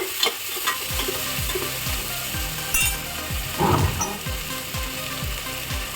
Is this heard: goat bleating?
no